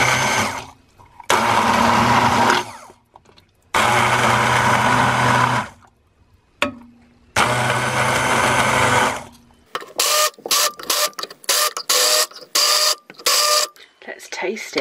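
Celery and potato soup with vegetable stock being blitzed smooth in a blender: three loud, close, whirring bursts of a few seconds each, followed by lighter clattering and handling noises.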